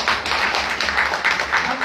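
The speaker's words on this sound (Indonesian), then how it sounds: "Tepuk tangan dulu dong." Indoor audience at a talk in Padang applauding together, a dense steady wash of hand claps lasting a couple of seconds with crowd murmur underneath.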